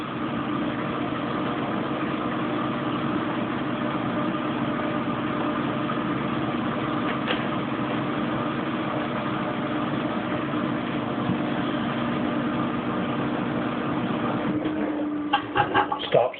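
A Kenmore Oasis washing machine spinning, giving a continuous, steady motor hum and drum whir that runs close and unchanging, with a few clunks and rattles near the end as it winds down.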